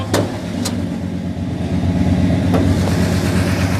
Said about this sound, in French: C'est un Big Block. Mopar 440.